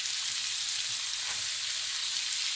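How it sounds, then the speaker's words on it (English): Celery and onions sizzle steadily in melted butter in a pan, a continuous soft crackling hiss with low clinks underneath, heard alone without any talking. "And now I'm going to add the celery and the onions."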